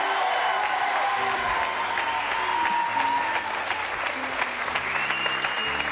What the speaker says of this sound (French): Vous allez le faire crouler sous vos applaudissements.